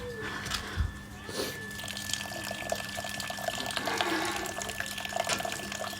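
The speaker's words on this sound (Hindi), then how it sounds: "इसमें पानी कम पड़ गया है, हमें डालना पड़ेगा" Water is poured into a container at home to top it up, a steady close splashing and trickling stream running throughout, fairly quiet with faint background noise.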